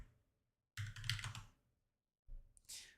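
Two short bursts of clicky keystrokes on a computer keyboard, close and fairly quiet, separated by silence, the second burst ending with a brighter tap.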